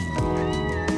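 A cat meows in a short pair of calls, close and clear, with tonal cries at the start and end of a brief moment, no voices over it.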